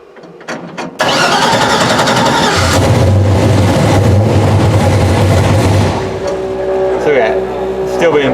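A car engine cranks briefly, catches and roars loudly, settling into a rough, steady run with a slight dip near the end, while people talk nearby.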